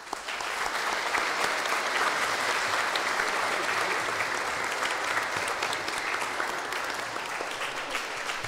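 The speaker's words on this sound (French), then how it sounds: "Nous pouvons les applaudir." A church congregation at a Saturday Mass applauds, dense even clapping filling the space and holding steady for several seconds.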